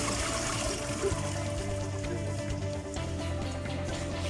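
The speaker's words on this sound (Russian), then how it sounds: "Нифига себе, как хорошо смывает." A newly installed toilet in a bathroom under renovation flushes with a loud, continuous rush of water and gurgling close by, steady throughout.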